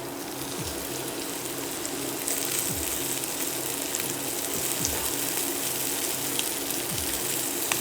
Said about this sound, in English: You want to see a nice sort of sizzle on the livers when they go in.